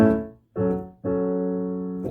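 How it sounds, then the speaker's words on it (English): A piano-like I chord rings out after a brief fade, then a vi chord enters and sustains, a simple two-chord move played cleanly with no voices. "Or 1 to 6 sounds like this."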